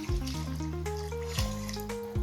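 Water pours in a steady stream into a pot of basmati rice for chicken biryani, its pitch shifting as the vessel fills, close and fairly loud.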